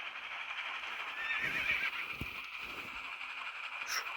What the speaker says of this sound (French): J'ai écrasé un cheval.